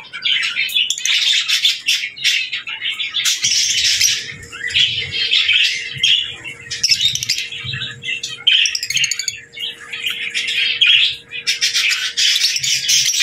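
Lutino opaline birds in an aviary keep up a dense stream of chirps, squawks and calls, loud and close, with overlapping voices and no pause.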